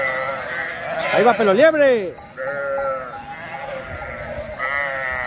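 Sheep in a flock out in the countryside bleat loudly and in overlapping calls, one wavering cry standing out near the middle, while someone speaks Spanish over them.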